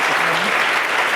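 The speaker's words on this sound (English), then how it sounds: "how about a big round of applause for our moderator and our speakers?" Audience applause from a live tech debate crowd, a steady dense wash of clapping filling the whole moment at close range, with no voices over it.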